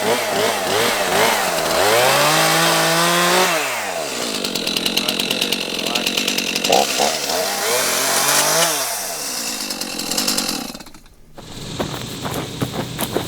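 A power saw cuts off an overhanging limb on a scrape tree at a Kansas farm, its loud motor revving up and bogging down in two long cutting passes, then dropping off with brief crackling of the falling branch.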